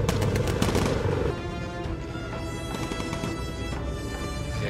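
Aircraft gunners fire from a bomber in the game Bomber Crew, with rapid bursts of machine-gun fire over a constant droning engine roar, loud and close throughout.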